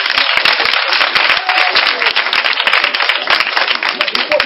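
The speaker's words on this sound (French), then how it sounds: "On acclame le Seigneur." A church congregation claps vigorously and rhythmically in praise, dense overlapping hand claps sustained throughout, loud and close with some voices mixed in.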